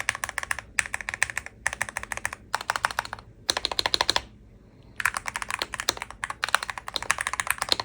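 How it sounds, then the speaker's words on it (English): Bursts of clacky typing on a DrunkDeer G65 mechanical keyboard in its stock plastic case, fast and close, with several short pauses between runs of keystrokes. "this is what the keyboard sounds like with the stock plastic case"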